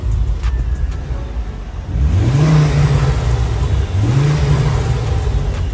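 A high-mileage Mk2 Ford Focus ST, missing its exhaust pipe, idles roughly close by, then is revved twice in quick blips, each rising sharply and settling back to idle.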